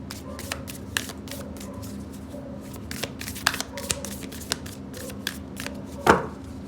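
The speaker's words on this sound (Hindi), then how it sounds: "और ये कार्ड्स अब चिपक रहे हैं तभी मैं ऐसे निकाल रही हूँ" Tarot cards shuffled and pulled from a deck during a reading, heard as soft, close riffling and tapping in an uneven rhythm, ending with one sharper card snap.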